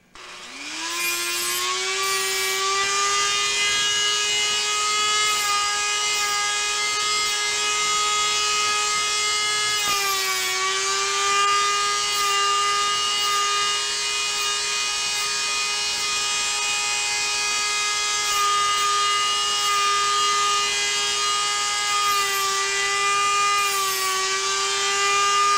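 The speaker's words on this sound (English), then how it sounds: "you get Dremel and just edge it out right on the side." A Dremel rotary tool grinding the edge of a lightsaber part, a steady high-pitched whine that holds nearly constant for about 25 seconds, with a brief dip in pitch midway as it bites into the workpiece, loud and close.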